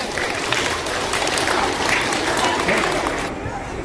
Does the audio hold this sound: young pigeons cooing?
no